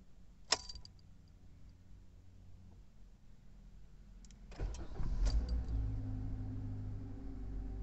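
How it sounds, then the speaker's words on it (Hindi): A Toyota Glanza car: a sharp click, a few small mechanical sounds, then the engine cranks and catches at once, settling into a steady idle hum nearby. "गाड़ी को स्टार्ट करके दिखाते हैं ये देखिए"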